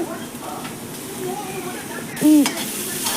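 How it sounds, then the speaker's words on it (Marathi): Finely chopped onion frying in oil in a pan for poha, a soft continuous sizzle with occasional stirring scrapes and a brief louder clatter near the end, heard close up beneath faint background sounds. "मी त्यात कांदा टाकला व पूर्ण चांगलंपणे हलवून घेतलं"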